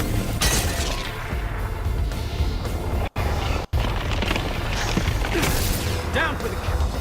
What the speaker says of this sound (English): Thunderbolt missiles away.